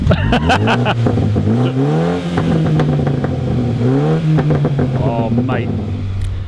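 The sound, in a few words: Mini JCW Clubman revving with Remus race exhaust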